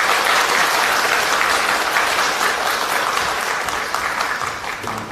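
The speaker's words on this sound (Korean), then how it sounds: "힘찬 박수로 해주시기 바랍니다" Sustained, dense applause from an audience welcoming a speaker at a Korean political party's launch ceremony, loud and steady before tapering off slightly at the end.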